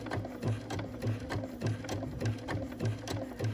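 A BERNINA sewing machine stitches a corded buttonhole, its needle thumping in a steady rapid rhythm with a regular pulse about every half second, close and clear with no talking.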